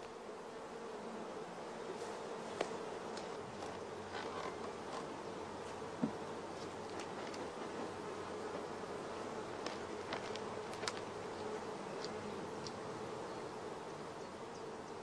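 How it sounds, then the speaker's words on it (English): Honey bee nurse bees crowd a queen-rearing frame, feeding young larvae; a steady, soft buzzing hum fills the whole stretch, with faint scattered clicks and rustles and no talking. "Here the nurse bees provide the young larvae with large quantities of royal jelly."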